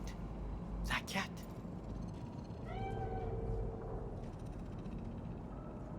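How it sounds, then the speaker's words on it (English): A cat meows in the video game Cyberpunk, a short rising call heard faintly beneath steady game ambience and background voices. "Do you see it? The cat."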